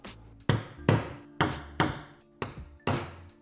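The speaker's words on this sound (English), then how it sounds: "we're going to get a hole punch, we're going to line it with this black dot, and then we're going to tap it down with the hammer" A hammer taps a hole punch through a template on the rear of a BMW G87 M2 or G42 M240i during rear wing installation, giving six sharp, evenly spaced metallic knocks, close and alone.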